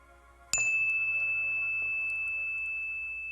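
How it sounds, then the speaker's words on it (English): A single bell struck once, a bright clear strike followed by a long sustained ring that slowly fades, with nothing else in the background. "As the sound of this bell"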